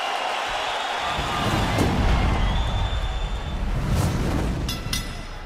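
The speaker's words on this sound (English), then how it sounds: "he headhunter Buentello goes headhunting and collects his 23rd MMA win in front of a raucous hometown crowd." A loud hometown crowd roars and cheers steadily throughout at a live MMA fight in an arena, with dense, continuous noise and a few sharp thumps.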